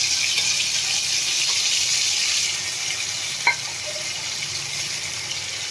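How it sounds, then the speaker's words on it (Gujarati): Onions frying in a pan for restaurant-style paneer tikka, giving a steady broadband sizzle with faint stirring and one brief clatter near the middle, close up and without talk. "આપણે ડુંગળીને પણ એકદમ સરસ ફ્રાય કરી લેશું"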